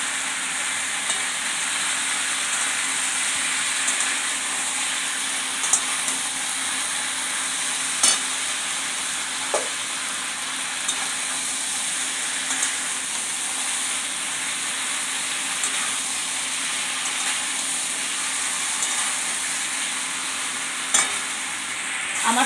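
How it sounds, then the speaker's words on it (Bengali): Spice masala sautés in a pan for a potato, plantain and pointed gourd curry, with a steady, even frying hiss and occasional sharp spatula clicks over a long stretch, without speech. "আমি এক মিনিট এই মশলাটা একটু কষিয়ে নিব"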